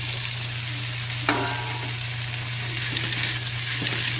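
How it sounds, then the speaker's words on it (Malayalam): Potatoes and onions sizzle steadily in a pan, frying under a constant broad hiss with a low hum beneath, while a spoon scrapes and stirs them in a few brief clanks. "ഉരുളക്കിഴങ്ങ് കുറച്ച് നേരം ഇളക്കിയതിന് ശേഷം"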